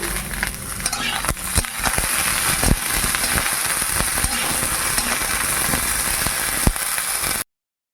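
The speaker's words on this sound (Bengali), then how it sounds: "এই তিনটে সবজি আমি একসাথে ভেজে নিচ্ছি" Flat beans, drumstick stalks and bitter gourd frying together in a pan, a continuous loud sizzle with scraping stirring strokes and occasional clinks of the spatula.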